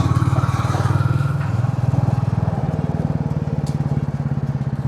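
A Royal Enfield Classic 350 single-cylinder motorcycle being ridden, its close, loud, evenly thumping engine note dipping briefly and resettling as it shifts into second gear.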